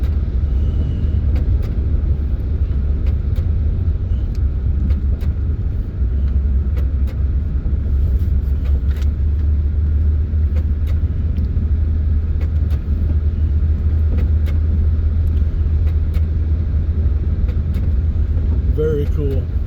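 A 1964 AMC Rambler with power drum brakes, driven after 33 years parked, gives a steady close interior engine and road rumble throughout, with faint talk in the cabin.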